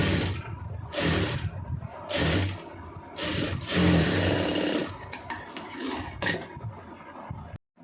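A sewing machine stitches a garment strip in several separate whirring bursts with brief pauses between them, close up and loud, before stopping abruptly at the end.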